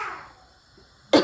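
A single short, sharp cough bursts out near the end after near-silence, close and loud.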